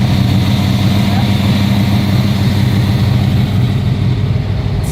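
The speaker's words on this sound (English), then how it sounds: "you can hear she's idling a little high right now" A Ford GT40 engine idling high at around 1,500 to 2,000 rpm, a loud, steady, close rumble with a constant low drone and no change in pitch.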